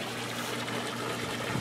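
Irrigation water flowing through a corn field, a steady, close trickling and gushing rush that continues evenly throughout.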